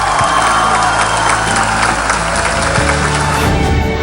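Sustained, dense applause with crowd cheering fills a theater as an audience gives a standing ovation to the Universal Ballet Company after a sold-out ballet performance on tour in South America, loud and continuous throughout.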